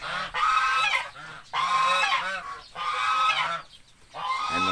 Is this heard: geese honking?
yes